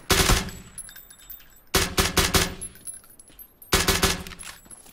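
Automatic gunfire from the video game PUBG comes in three loud, rapid bursts of about a second each, separated by short pauses, with no talk over it.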